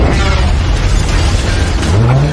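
A truck crashes into a plane in a film action scene: a loud, continuous roar of engine and heavy rumbling impact noise fills the whole moment, with a low groaning sweep near the end.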